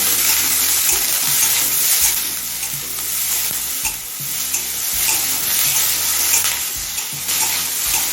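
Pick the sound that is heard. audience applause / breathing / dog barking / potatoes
potatoes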